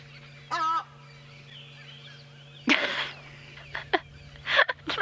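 Loud, harsh hadeda ibis calls ring out in separate bursts at sunrise on a safari drive, the last few coming in quick succession over a quiet background with a low hum.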